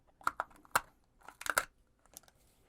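An X-Acto knife slices through paper to cut out the top part of a paper skeleton prop, heard as short sharp crisp scratches and crinkles in a few close bursts with quiet gaps between.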